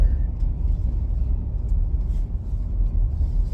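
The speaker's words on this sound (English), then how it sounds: "That's a nice car. I think it's an old Plymouth or Mercury." An old 1950s Plymouth or Mercury car goes by with a loud, steady low rumble close at hand, lasting throughout with no talking.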